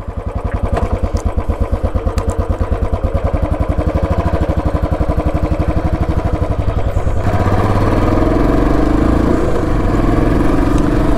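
A Royal Enfield Classic 350 motorcycle's single-cylinder engine thumps steadily at idle and then runs on louder and rougher, a close, continuous low pulsing with no talk.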